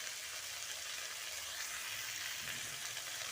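Panch phoron whole spices sizzle in hot oil while singara filling is being made, a brief, soft, continuous hiss with no voices.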